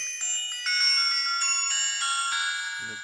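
A kids' W5C GPS tracker smartwatch plays a synthetic ringtone melody continuously at steady volume, bright electronic tones shifting in pitch, with a faint rustle near the end.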